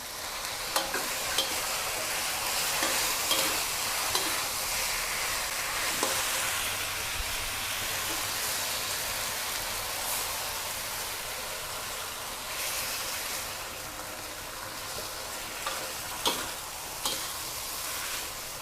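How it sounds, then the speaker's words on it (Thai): Snakehead fish stir-fried in a pan with curry paste and pickled bamboo shoots gives a continuous loud sizzle, with spatula scrapes and clinks scattered throughout and no talking. "ผัดจนทุกอย่างเข้าที่ได้ที่ได้ทางรสชาติลงตัวแ ล้วนะคะ"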